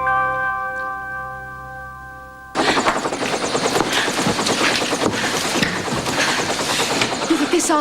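Helicopter circling overhead outdoors, a loud continuous rotor chop that starts abruptly after a quiet tonal opening and holds steady to the end.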